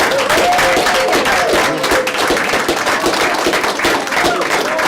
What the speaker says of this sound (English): Let's also give a round of applause to the parents.